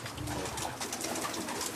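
A flock of about 150 young pigeons arrives at a loft in Szczecin, Poland, giving a continuous busy wash of wingbeats and soft cooing, fairly close and steady throughout.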